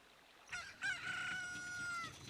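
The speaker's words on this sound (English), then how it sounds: "Cock-a-doodle-doo." A rooster crows once in the video game Ocarina of Time, a clear, drawn-out cock-a-doodle-doo that starts abruptly and rings moderately loud over a quiet background.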